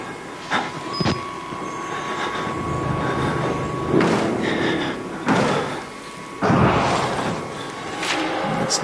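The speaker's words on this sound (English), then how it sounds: "You can break down doors with the power of plot armor." A door being broken down in the horror game Outlast: a series of heavy, crashing impacts spaced a second or more apart, with rattling and scraping between them over a constant low hum.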